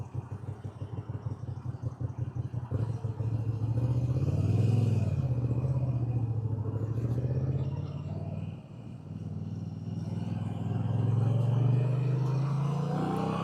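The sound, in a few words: Moto Guzzi V7 Sport motorcycle riding on motorway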